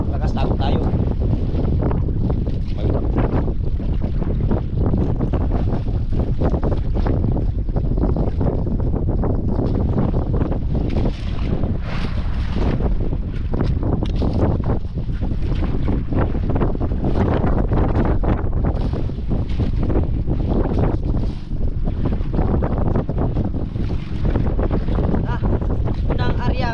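Strong wind roars steadily across a fishing boat at sea, a dense, gusting rush of buffeting air on the microphone that lasts the whole time, with water sounds blended underneath.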